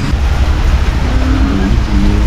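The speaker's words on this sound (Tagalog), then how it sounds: "Talagang di na tumigil yung ulan." Heavy rain falling outside a house, a loud, dense, steady hiss and wash of water that fills the whole stretch without a break.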